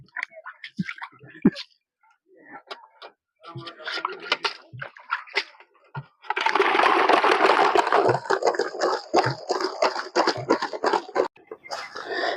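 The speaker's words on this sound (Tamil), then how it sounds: "நண்டு கழுவுற மாதிரி தெரியல, ஏதோ கல்ல போட்டு கழுவுற மாதிரி இருக்குது" Giant crabs scrubbed in water in a village kitchen, heavy as stones: scattered splashes and clatters at first, then a sustained loud sloshing and knocking of shells in water from about six seconds on, close by.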